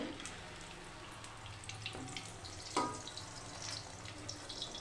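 Malpua, Bengali sweet pancakes, frying in hot oil: a steady close-up sizzle and crackle with small spattering pops, fairly quiet, with no talking.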